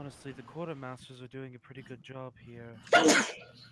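A single sharp sneeze bursts out near the end, close and loud, right after someone speaks.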